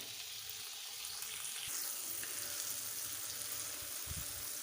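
Chopped tomatoes and lightly browned onions fry in a pan with a steady, close sizzle that holds at an even level throughout, with a faint stir or clack near the end.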